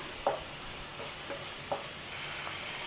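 Chicken mixture frying in a pan for a Ramadan iftar full-chicken recipe, with a steady soft sizzle and a few light scrapes of a spoon stirring at irregular intervals, close and quiet, no talking.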